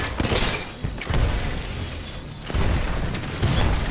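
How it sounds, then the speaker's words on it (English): Grenades detonating in Apex Legends produce a rapid series of loud, close booms and crackling bursts, with shattering debris and game noise filling the gaps. "Grenades are amazing in Apex."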